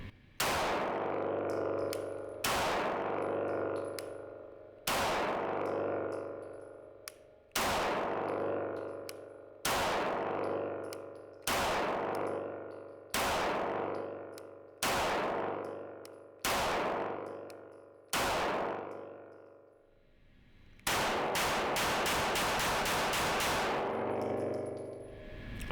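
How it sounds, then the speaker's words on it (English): An H&K USP Compact pistol fitted with a GrayGuns flat trigger fires about nine evenly spaced single shots, each loud with a ringing, echoing decay, then a quick rapid-fire string near the end; no one speaks. "guys, let's take some shots. Let's see what it feels like."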